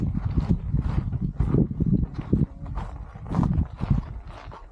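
Bullock cart hooves clip-clop steadily on a farm ride through fruit and flower orchards at an agro-tourism stay, a repeated loud clatter with rumbling movement underneath.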